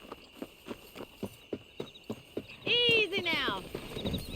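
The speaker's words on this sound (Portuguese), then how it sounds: "Uma aposta de corrida de cavalo." A horse's hooves strike in an even, regular clip-clop in the Red Dead Redemption video game, then a horse neighs loudly near the end while someone speaks briefly.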